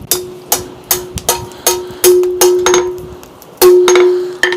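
A forge weld being hammered on hot metal: about a dozen sharp, ringing hammer blows on the anvil, close and loud, in an uneven rhythm with some strikes falling in quick pairs.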